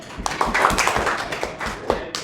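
A small group claps by hand indoors in a room, a ragged burst of separate claps that keeps going for a couple of seconds at a steady, moderate level.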